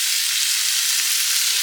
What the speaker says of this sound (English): Here's our chicken. Frying it.